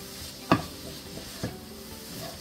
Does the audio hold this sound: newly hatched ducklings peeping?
no